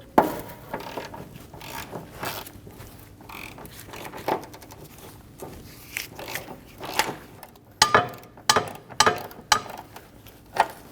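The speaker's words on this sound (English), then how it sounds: "Using a 16mm socket, go around and loosen all of the bolts for the control arm bracket." A ratchet wrench with a 16mm socket cranks loose the rear control arm bracket bolts on a 2012–2022 Volkswagen Passat, giving bursts of quick metallic clicking with short pauses between strokes, close and fairly loud.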